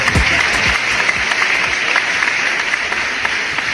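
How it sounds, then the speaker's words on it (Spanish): Audience applause breaks out after a live performance of a song, a steady dense clapping that fills the whole stretch at close range and fairly loud, with no voices over it. "Fuerte, fuerte el aplauso."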